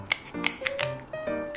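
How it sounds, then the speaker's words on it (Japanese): Kitchen scissors snip through the shell and legs of a giant shrimp, giving several sharp, close clicks and crunches in an uneven rhythm. "ハサミでいきます"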